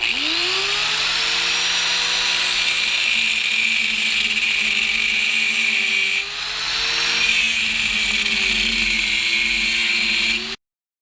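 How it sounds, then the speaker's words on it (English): Angle grinder with a cut-off wheel gouging steel while fabricating a stand for a Dake arbor press; a loud, steady high whine runs continuously for about ten seconds, briefly dipping in pitch midway as the wheel bites, then stopping abruptly. "I'm going to try using an angle grinder with a cut-off wheel and see what kind of results that gets me."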